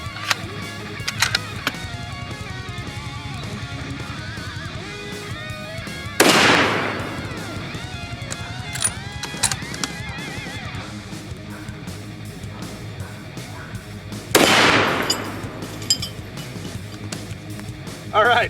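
A 300 Win Mag rifle loaded with 208 grain match rounds fires two loud, sharp shots at a steel Thor target, about eight seconds apart, each a sudden blast with a ringing decay over outdoor background noise.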